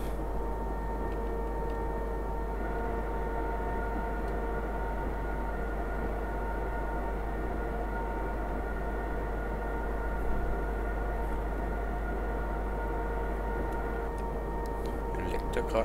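A train in the Train Simulator game, hauling a long consist through stormy weather, rumbles steadily with a constant low drone and faint rhythmic ticking, plus a few light clicks near the end.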